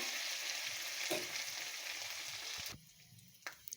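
Grated ginger fries in hot mustard oil for a mustard fish curry, a steady soft sizzle with stirring scrapes and a few clinks, quieter near the end.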